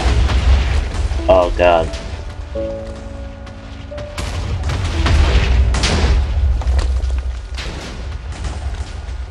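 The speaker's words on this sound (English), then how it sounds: "It's been exploding for pretty much an entire Minecraft day right now." Minecraft TNT detonates in a dense chain, a continuous rumble of booms and crackling blasts lasting throughout, with a person exclaiming over it.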